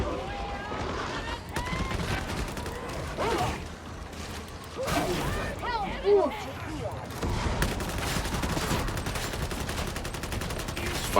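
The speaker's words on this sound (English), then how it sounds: "Fire bullets in that general direction." Gunfire and combat clamor in the Warhammer 40,000: Darktide video game, loud repeated shots and mechanical clatter packed densely throughout, with voices talking over the action.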